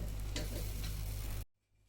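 Thin dosa-style batter sizzles steadily on a hot pan in a Kerala home kitchen, a dense continuous frying hiss close to the microphone that cuts off abruptly near the end, leaving quiet room tone.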